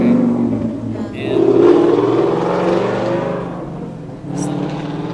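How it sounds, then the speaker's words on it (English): A loud car engine revving and roaring, rising and falling over several seconds, with voices talking underneath. "some people just love those loud cars"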